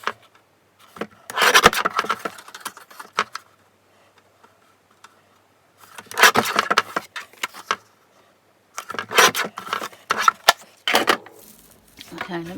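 Card stock is trimmed down a little at the bottom, heard as three separate bursts of dry rasping and sliding cuts, close and moderately loud, with quiet pauses between them.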